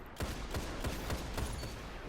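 Rapid gunfire in a first-person shooter video game, a quick run of about six sharp shots at an even rhythm over a dense, noisy game soundscape, with no talking.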